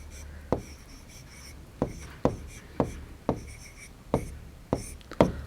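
Marker or chalk strokes writing dates on a classroom board for a Class 3 maths lesson, about nine sharp taps and scratches spaced roughly half a second apart, close and clear over a quiet room.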